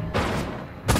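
Explosions in the video game Destroy All Humans!: a loud, close burst of blast noise that sustains briefly, then a second sharp blast near the end, with no talk over it.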